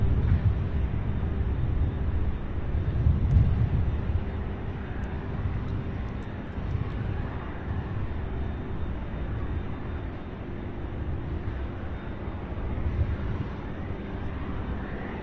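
A Boeing 747 departing Louisville International Airport, a low, rumbling jet roar that swells and fades gently at moderate distance, mixed with some wind buffeting on the microphone.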